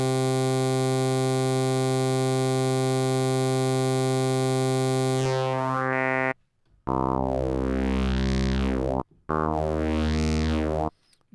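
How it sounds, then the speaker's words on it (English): A buzzy synthesizer tone holds a steady chord, then morphs into sweeping, warbling phase-distorted swells broken by two abrupt silent gaps. "This adds some nice phase distortion."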